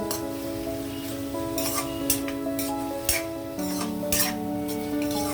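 Chicken and vegetables for fried rice being stirred in a pan, with a continuous close sizzle and several sharp spatula scrapes and clinks against the metal at irregular intervals.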